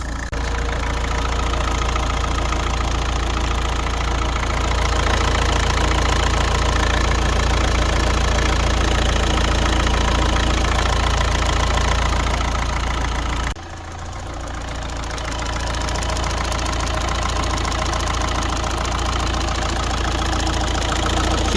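An Opel car engine idles steadily while warming up after a fuel leak repair, a constant loud drone that briefly drops in level partway through before settling back into an even idle.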